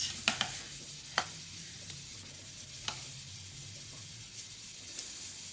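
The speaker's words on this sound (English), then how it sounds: "Oh, listen to that sizzle." Sauce sizzling in a hot pan, a faint steady hiss broken by a few sharp clinks and stirring clatters, quiet and close with no voices.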